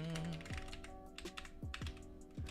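Computer keyboard keys clattering in quick, uneven bursts close by, with a low musical tone and faint background sounds running underneath.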